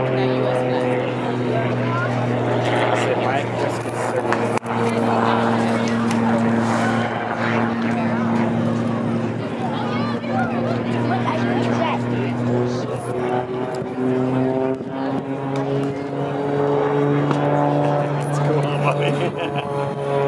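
An aerobatic airplane flown by Mike Wiskus circling at an air show, a steady sustained engine drone heard throughout with a commentator talking over it.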